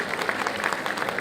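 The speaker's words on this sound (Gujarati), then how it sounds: "જોરદાર તાળીના ગગડાટથી વધાવો" Fairly quiet, dense applause from a Leicester fundraising gathering as a donation is announced, a steady spread of many hands clapping with no pauses.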